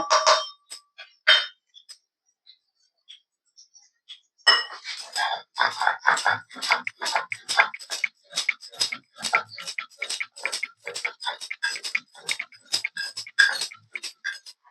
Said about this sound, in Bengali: এবার আদা আর রাঁধুনিটা আমি এবার বেটে নেব